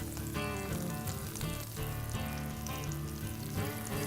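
Pretzel-crusted walleye fries in olive oil in a hot pan, giving a steady, soft sizzle that runs the whole time beneath background music.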